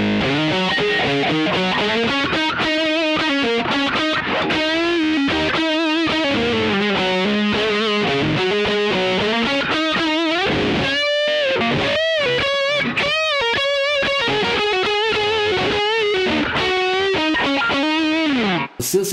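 An electric guitar with humbucker pickups plays a lead line through a TC Electronic Grand Magnus budget distortion pedal, a loud, saturated high-gain tone of sustained and bending notes with no talking.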